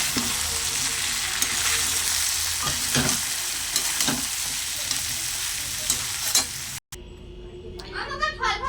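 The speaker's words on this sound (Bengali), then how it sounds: "এবারে দিয়ে দেবো ধনে পাতা কুচি। আর একটু ভালো করে নাড়াচাড়া করে নেব।" A spoon stirs chickpea and potato ghugni with chopped coriander leaves in a sizzling pan, giving steady frying hiss and scraping strokes. The pan sound cuts off near the end, then brief clinks follow.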